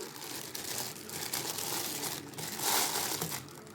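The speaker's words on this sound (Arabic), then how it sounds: "هلبس بس الكيس للكوبايه" A plastic bag crinkling as it is stretched over a cup of batter, loud close rustles and crackles that come in irregular bursts and swell near the end, with no voices.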